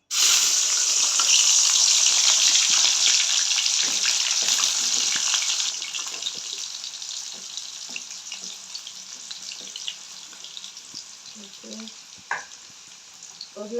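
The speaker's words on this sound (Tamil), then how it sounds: "உருளைக்கிழங்கு வந்து சும்மா தான் வந்து பொரிச்சு எடுக்க போகிறோம்." Loud, steady sizzling and crackling of potatoes deep-frying in hot oil, easing somewhat midway, with occasional soft clinks of utensils.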